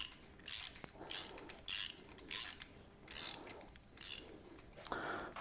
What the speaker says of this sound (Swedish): Sen brukar jag faktiskt köra med spärren för att känna av lite.